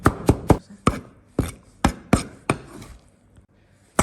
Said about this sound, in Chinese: 再切一点的洋葱，这叶要切碎一点。